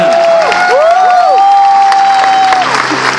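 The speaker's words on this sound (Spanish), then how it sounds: "Un aplauso para ahora." Audience applause fills a live motivational business talk, steady, loud and close throughout, with high whistle-like tones sweeping over the clapping.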